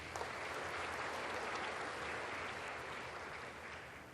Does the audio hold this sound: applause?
yes